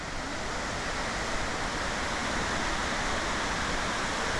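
The roar of Victoria Falls in Zimbabwe fills the clip as a loud, dense, unbroken rush of falling water, steady from start to finish with no voices.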